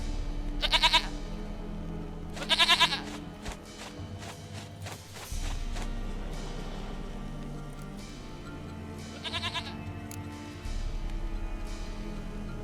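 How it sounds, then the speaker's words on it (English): A goat in The Witcher 3 bleats in several short, wavering cries, close and clear, spaced apart over a low steady game ambience with occasional thumps. "Goat of mine, dearest, sweetest goat."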